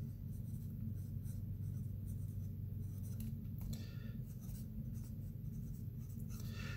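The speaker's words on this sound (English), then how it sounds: "let's write it out, legendary." A pencil scratches across sketch pad paper in short, quiet strokes, faint and close over a steady low hum.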